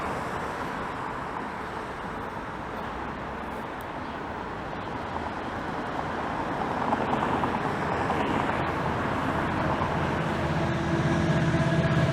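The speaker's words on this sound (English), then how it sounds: "As a westbound Lakeshore GO train roars by." A westbound Lakeshore GO commuter train in Toronto rumbles past with a steady roar of wheels on rails, growing louder midway and staying close and heavy to the end.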